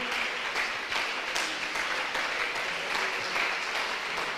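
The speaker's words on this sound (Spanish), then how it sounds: "Dale ese aplauso con todo tu corazón." A church congregation applauds in a steady, sustained wash of clapping that fills the room at moderate volume, continuous from start to finish.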